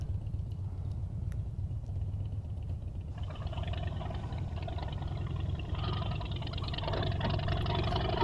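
A broken motorcycle rides with something dragging at its rear end, a steady low engine drone with a grinding scrape that rises partway through.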